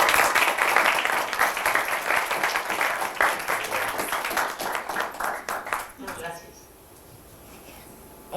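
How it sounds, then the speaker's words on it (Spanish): Audience applause for the panelists at the close of a televised panel discussion on the 2024 elections in Mexico and the world: loud, dense clapping that fades out after about six seconds into quiet room tone. "Un aplauso para los ponentes, por favor."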